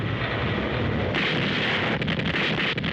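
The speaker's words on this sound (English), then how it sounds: "That's American gunnery, laying our main batteries on a moving target in the dead of night." Salvos from a WWII American naval main battery firing at night, heard on a vintage documentary track as a continuous heavy roar and boom of gunfire. The sound is loud and unbroken, with a surge partway through.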